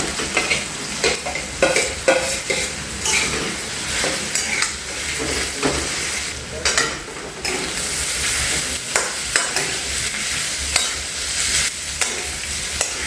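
Boiled potato being sautéed in ghee with green chili for a fasting meal, a continuous sizzle broken by repeated scraping stirs of a spatula against the pan, close and fairly loud, no talking.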